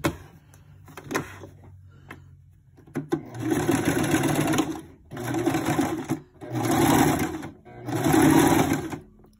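A sewing machine stitches a 3D fabric coin purse close to the edge, running in three loud, steady bursts separated by brief pauses after a quieter start.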